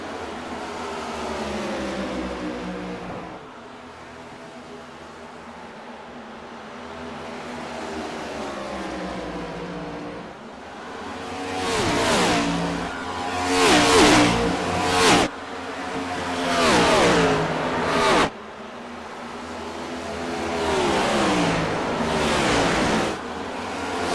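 Race cars lapping Dover in a racing video game, engines droning steadily then swelling into loud passing roars with abrupt cuts, no talk over them.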